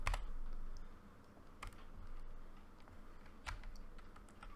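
Keystrokes on a computer keyboard while setting up a PC for a domain, a soft steady patter of typing with a few louder clacks near the start, middle and end, close by with no voices.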